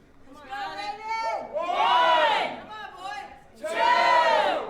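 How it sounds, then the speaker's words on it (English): Crowd at a slap fighting event roaring and shouting in two loud surges, close and dense, with a brief dip between them; voices yell and whoop rather than speak. "And as you can hear, the crowd just loves Raven"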